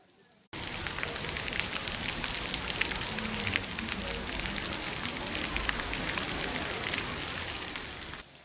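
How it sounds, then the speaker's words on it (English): Heavy Florida rain falls at a theme park, a dense, steady hiss of drops on surfaces that starts abruptly and continues evenly, fairly close, with no other sounds standing out. "we just had to sit tight and wait for the Florida rain to pass"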